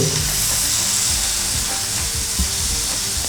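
Pineapple slices grill in a hot pan with a continuous close sizzle and crackle, and a few soft knocks from handling; no voices.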